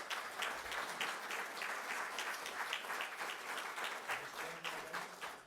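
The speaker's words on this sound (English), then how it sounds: "So I want a round of applause for this group." Audience at a city council candidate forum breaking into steady, dense applause that holds for several seconds at moderate volume, with no one speaking.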